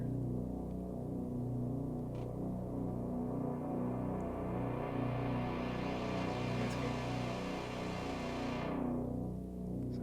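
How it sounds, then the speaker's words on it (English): A Moog Voyager synthesizer drones with a thick, buzzing sustained tone while a filter sweep slowly opens and closes, loud and continuous with no voices. "it's not the Moog, but it's a Voyager"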